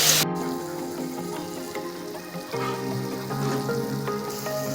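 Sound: frying ridge gourd mixed with Kashmiri chili powder

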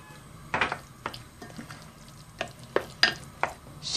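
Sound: grating garlic

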